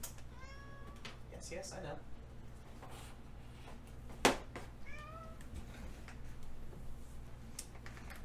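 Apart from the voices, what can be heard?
cat meowing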